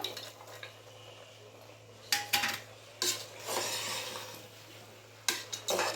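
Mushrooms and fresh peas are stirred in a pot for a mushroom biryani, with bursts of metal spoon scraping and clanking against the pot, close and clear, separated by quieter gaps with a faint low hum.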